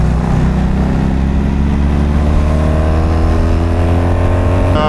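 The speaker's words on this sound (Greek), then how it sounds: "Από όλες τις κατηγορίες μηχανάκια." Motorcycles of many kinds gathered for a group ride in Arachova, Greece, engines droning loud and close with a steady rising rev that climbs in pitch toward the end, no talk over it.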